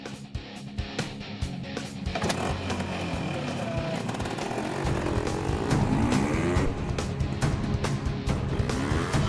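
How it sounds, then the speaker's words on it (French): Trial motorcycles used for stunt work run nearby, their engines buzzing and revving steadily with rough mechanical rattles, growing louder in the second half while people talk over them. "Ce sont nos motos de trial."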